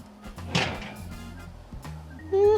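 An oven door opens and shuts with a couple of close thunks and a clatter as a meat-crust pizza comes out. A steady hum runs beneath, and it ends on a brief metallic scrape and ring.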